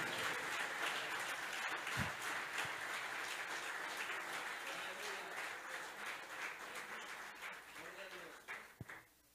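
A church congregation applauds, a sustained wash of clapping with voices talking and calling out underneath, tapering off near the end.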